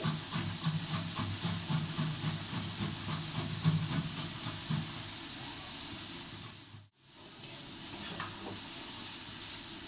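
Soybean chunks fry in oil in a kadai, giving a continuous soft hiss and sizzle with faint stirring clinks, close and fairly quiet, with a brief drop partway through.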